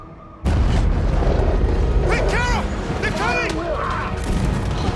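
A loud, sustained boom rolls through a Detroit: Become Human battle, with rumbling debris and commotion continuing for several seconds while voices talk over it.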